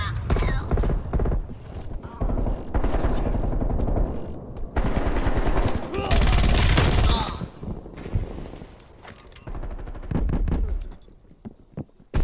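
Rapid automatic gunfire in the first-person shooter Call of Duty Black Ops Cold War, including a MAC-10 submachine gun, with dense, loud bursts and short pauses between volleys, layered over game effects, with no voices.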